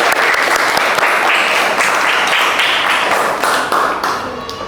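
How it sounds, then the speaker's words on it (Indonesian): A classroom group claps for two students, a dense burst of close, fairly loud applause that carries for several seconds and thins out toward the end. "Tepuk tangan untuk mereka berdua"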